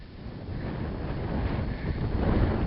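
Strong gusting wind buffeting the microphone on an exposed hillside near a bothy on the Isle of Rum, a continuous loud rumbling roar that builds slightly over a few seconds.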